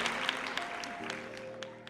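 Applause and clapping in a podcast setting, a dense patter of claps running steadily through the whole stretch at moderate loudness, with faint tonal background sounds underneath.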